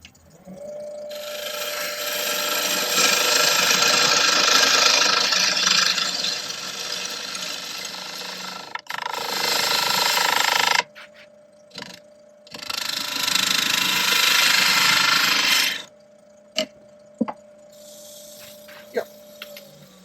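A turning tool scraping a wooden bowl on a lathe, a bowl cut from a firewood crotch piece with bug holes, giving a loud, steady rasping hum in long bursts broken by pauses, then a few sharp taps as the lathe runs.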